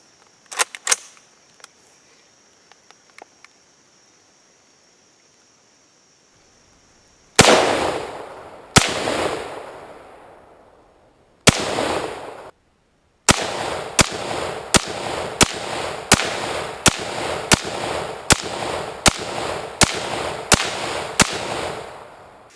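A Tavor X95 rifle fires at a shooting range: a few separate loud cracks, then a rapid string of about a dozen sharp reports in a steady rhythm, each with a short echo, close and loud.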